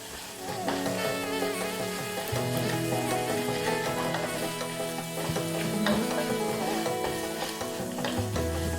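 Crushed garlic frying in a pan with onions for a buttermilk curry: a steady sizzle continues for the whole stretch, partly under a bed of tonal background music, with no voices.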